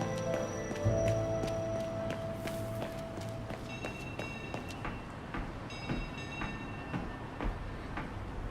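Tram ride in Syberia The World Before, with a quiet, steady rolling rumble of the tram running on rails, overlaid by scattered metallic clanks and ringing tonal squeals from the wheels and track.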